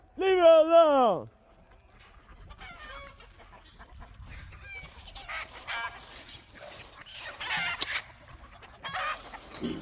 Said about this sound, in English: Jungle fowl got her.